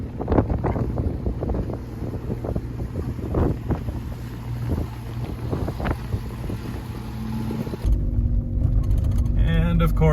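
Strong wind roars steadily across a lakeside lookout in the Okanagan, buffeting the microphone with low rumbling gusts from start to finish, while a voice speaks briefly partway through.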